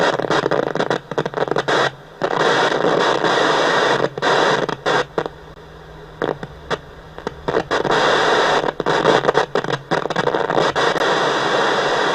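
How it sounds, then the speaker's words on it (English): Harsh, warbling airband radio data bursts crackle over static from a Bush VTR178 radio, stopping and starting in choppy stretches, loud and close with no speech. "you can hear all the data signals coming through on airbands, so it's working fine"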